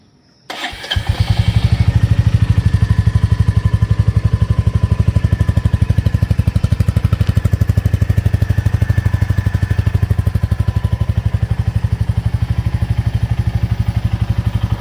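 A Royal Enfield Meteor 350 motorcycle starts up close by, then settles into a loud, steady thumping idle that runs on unbroken with no talking.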